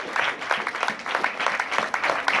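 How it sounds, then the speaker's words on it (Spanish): A church congregation claps during a Spanish-language service, lively bursts of applause in an uneven, pulsing rhythm that sounds close and fairly loud. "Denle un aplauso al Señor por eso."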